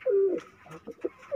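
Racing pigeons in a loft give a short, close coo followed by a few softer murmuring notes, quiet and without any voices.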